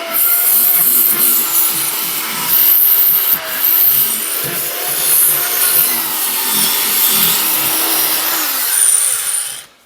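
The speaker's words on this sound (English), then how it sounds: "I'm going to carry on scraping away" A hand scraper rasps rust off the rear suspension of a Jaguar XKR, loud repeated grinding strokes close up in a continuous rhythm with brief pauses, ending abruptly.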